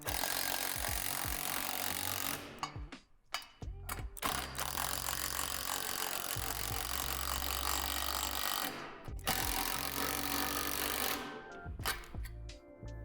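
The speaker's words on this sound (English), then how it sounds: "When tightening this hardware, only tighten so that the rim doesn't wobble." Basketball rim hardware on a Lifetime adjustable in-ground hoop is tightened with a tool, making close, repeated ratcheting clicks in bursts separated by short pauses, with no voices.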